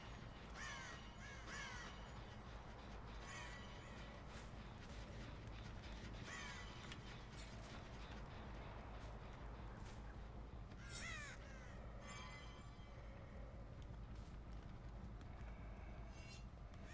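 Crows caw repeatedly over a steady low rumble on a Dead by Daylight map, the harsh calls scattered across the stretch at moderate distance with no talking.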